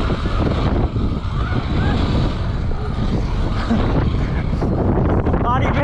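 Steady roaring wind buffets the microphone while riding a scooter on a pumptrack, a loud continuous rumble with faint rustling on top.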